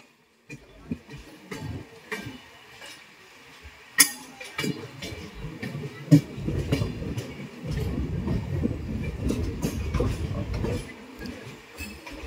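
The Howrah to Ranchi Intercity SF Express runs along the rails, heard from inside a sleeper coach: a steady rumble with rhythmic clickety-clack of wheels over joints, occasional metallic clinks and knocks, growing louder and rougher toward the end.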